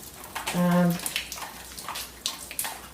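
Rainwater running and dripping inside a tornado-damaged house with part of the roof down, a steady trickle near the kitchen sink broken by scattered drips, faint under a brief voice.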